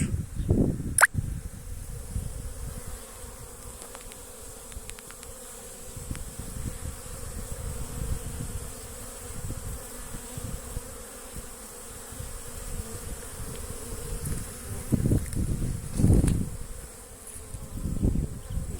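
Bees busily buzzing around a hive while carrying yellow pollen, with a steady insect drone close by and swelling in brief louder passes.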